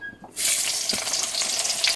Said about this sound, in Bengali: কড়াইতে আমি পেঁয়াজগুলো দিয়ে দেবো।